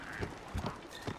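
A horse gallops in the video game Zelda Breath of the Wild, with a few quick, soft hoof thuds in a short burst.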